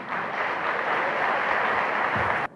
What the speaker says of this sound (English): let us all welcome with a big round of applause